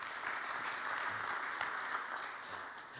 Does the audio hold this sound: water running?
no